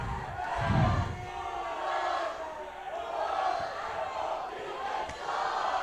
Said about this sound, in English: that's the crowd joining in with the usual chanting of the JOES for the Joes